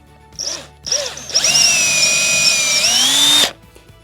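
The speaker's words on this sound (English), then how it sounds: "So pre-drill." A power drill pre-drills a ContiBoard panel for screws: two short trigger bursts, then a sustained high whine of about two seconds with a slight pitch rise near the end. The drill is close and loud and no one speaks.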